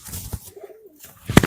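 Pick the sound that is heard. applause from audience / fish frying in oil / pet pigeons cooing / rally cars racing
pet pigeons cooing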